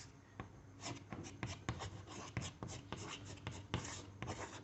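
Chalk or marker scratching across a board in a classroom, with quick rhythmic strokes and taps close by over a steady room hiss, no talking.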